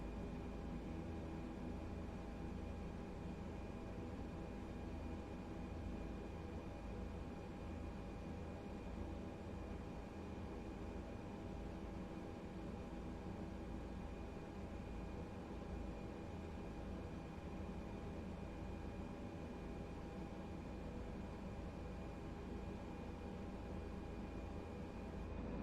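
ATR72-600 turboprop taking off in Microsoft Flight Simulator, a steady, loud engine drone with a constant tonal whine, holding unbroken for the whole stretch with no talk over it.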